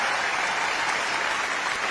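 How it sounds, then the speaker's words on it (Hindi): A large crowd applauds at a political speech, producing a dense, even roar of clapping that fills the whole moment, loud and continuous with no voices on top. "भाइयों और बहनों, ताली बजनी चाहिए कि नहीं बजनी चाहिए?"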